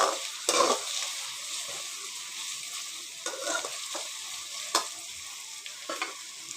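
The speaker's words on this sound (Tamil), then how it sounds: "நல்லா வதக்கி விட்டுக்கலாம்." Chopped onions and tomatoes sauté in a pan for a brinjal chicken curry, with a steady sizzle broken by several distinct stirring scrapes, close and moderately loud, no voices.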